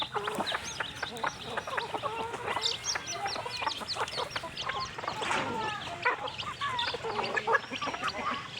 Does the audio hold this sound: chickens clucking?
yes